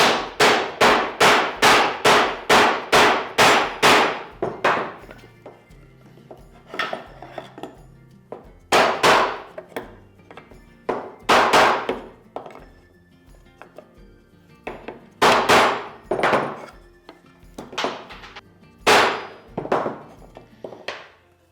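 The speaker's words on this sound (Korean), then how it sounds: "이제 조립을 하실 때 망치로 때리셔야 되는데요. 한번 때려 보도록 할게요." A hammer strikes a wooden finger joint, cut with a DT24 dovetail jig, during assembly. It starts as a rapid run of a dozen sharp, loud knocks, followed by spaced clusters of hits with short pauses between them, and there is no talking.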